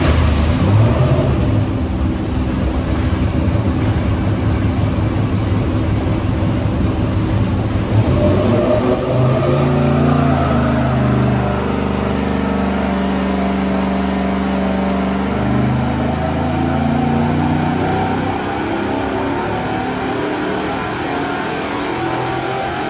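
An LSA 5.3L V8 fitted with a Summit Big Nasty cam running on an engine dyno, a loud continuous rumble at idle whose tone shifts and swells midway, then settles, with no talking.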